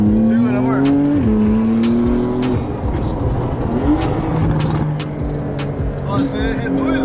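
A Corvette drifts with loud, sustained tire squeal over a revving engine, the squeal sliding in pitch as the car slides, while people talk close by.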